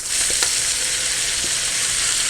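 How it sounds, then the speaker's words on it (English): Cabbage hits a hot pan of softened onions and garlic and sizzles loudly and steadily, a dense close hiss of frying with a few brief crackles and no voices. "I'm going to go ahead and add my cabbage."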